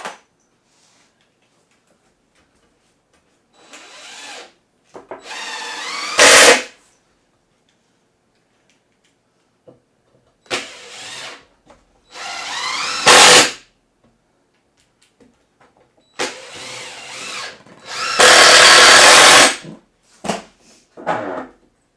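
A power drill drives screws into the sub-floor of a Cessna 172 home cockpit rebuild, sounding as several short, loud bursts of whirring separated by quiet pauses.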